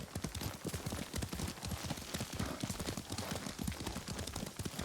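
Horse hooves clip-clop at a steady riding gait in Ghost of Tsushima, a continuous rhythmic run of close, even hoofbeats with no talk over them.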